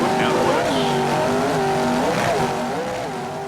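Offshore powerboats racing at the Daytona Beach offshore Grand Prix make a loud, continuous engine roar with wavering pitch as the boats pass. A commentator talks over it.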